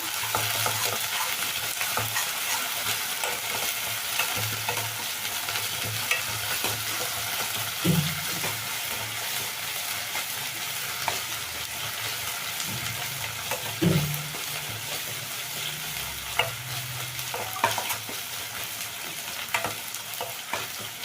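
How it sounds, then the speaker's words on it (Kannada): A spoonful of ginger garlic paste fries in hot oil, a continuous close sizzle broken by occasional scrapes and knocks of a stirring spoon against the pan, with no talking. "ಈಗ ಶುಂಠಿ ಬೆಳ್ಳುಳ್ಳಿ ಪೇಸ್ಟ್ ಹಾಕ್ಕೊಳ್ತಾ ಇದ್ದೀನಿ, 1 ಸ್ಪೂನ್ ಅಷ್ಟು. ಇದು ಎಣ್ಣೆನಲ್ಲಿ ಚೆನ್ನಾಗಿ ಫ್ರೈ ಆಗಬೇಕು."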